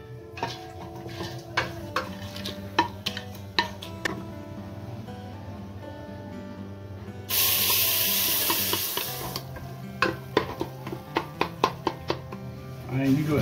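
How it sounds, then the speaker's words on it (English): A crab curry being stirred in a pan, with spoon clicks and taps against the pan and a loud burst of sizzling partway through. "I need to stir it."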